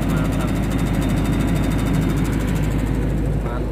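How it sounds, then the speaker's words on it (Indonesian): A 60 kVA generator set engine runs steadily at close range, giving a loud, constant mechanical hum and throb with a regular low pulse and no talk over it. "ini untuk genset yang dibawa ARS Jilid 4 lor, 60 kVA"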